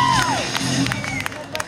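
An audience at a KVN comedy contest final claps and cheers in a hall, with scattered sharp claps and a brief whistle. A loud voice talks over the crowd throughout.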